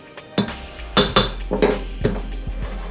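A spoon clinks and scrapes against a bowl while stirring ginger, salt, baking powder and other dry ingredients for blueberry oatmeal squares, several sharp knocks in an uneven rhythm, close up.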